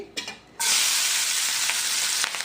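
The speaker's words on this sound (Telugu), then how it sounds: "నెక్స్ట్ ఇది ఉల్లిపాయ పచ్చిమిర్చి వేసి ఫ్రై చేసుకుందామండి" Onion and green chilli drop into hot oil in a pan and break into a loud, steady, close sizzle that carries on unbroken, with a few faint clinks underneath.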